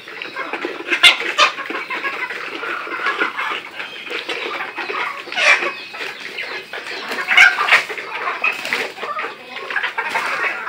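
Layer hens at a poultry farm in Muktagacha, Mymensingh cluck and squawk continuously, many birds overlapping nearby with louder individual calls rising from the flock.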